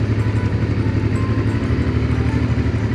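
A Honda Africa Twin XRV750 motorcycle engine runs steadily nearby, a loud continuous throbbing rumble with a fast regular pulse and no speech.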